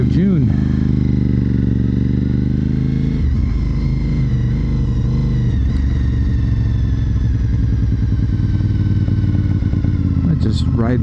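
A Honda RC51 motorcycle rides through town with a continuous, close engine drone that wavers as the throttle shifts; a rider's voice speaks over the engine.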